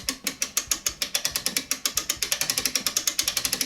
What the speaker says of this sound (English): Then wind the spring winder again until you can remove the sleeve,